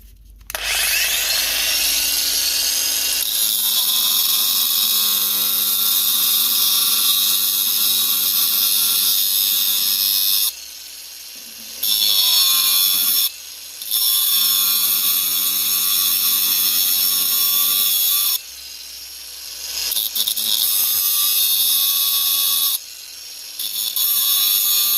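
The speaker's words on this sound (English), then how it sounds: "you're going to grind in order to go and cut that lip off of there" Grinding off the lip of a soft metal GT3000 front wheel bushing, a loud, sustained grinding whine broken by a few short pauses and resuming each time, with no voices.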